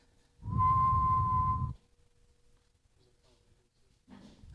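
A single steady whistled note, loud and close, held for about a second before stopping, followed by near silence and a brief soft rustle.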